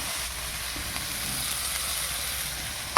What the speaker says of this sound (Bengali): এখন বাদাম দিব,